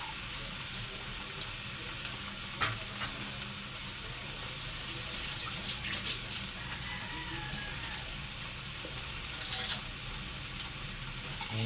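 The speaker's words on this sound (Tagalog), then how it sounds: "Ngayon, nilalagyan natin siya ng tubig." Water pours steadily into a pot of vegetable kare-kare, a continuous close, soft hiss and splash over a stovetop sizzle, with no one speaking.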